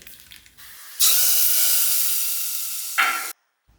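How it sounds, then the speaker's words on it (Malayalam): Mustard seeds hit hot coconut oil for tempering with a sudden loud, bright sizzle that hisses steadily for about two seconds. A sharper burst of crackling comes near the end, then the sound cuts off abruptly. "ഇനിയിപ്പോൾ നമുക്ക് വെളിച്ചെണ്ണയിൽ കടുക് അത് വറവിടാണ് വേണ്ടത്"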